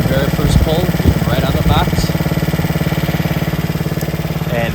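A new Honda HRN216 push mower's engine runs at a steady, throbbing idle close by, its even pulsing chug continuing under a man's speech.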